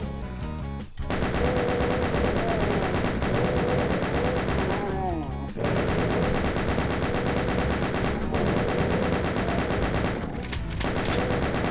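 Rapid, loud bursts of gunfire fill the Final Doom game's combat, dense repeated shots with brief pauses between volleys.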